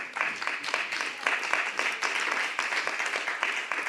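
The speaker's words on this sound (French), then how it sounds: "applaudissez-vous vous-même, et en plus, ça va vous réveiller" A conference audience at a round-table session claps for itself, a broad, even patter of many hands heard at moderate distance, continuous for several seconds with no talking on top.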